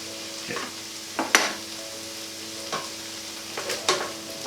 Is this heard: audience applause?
no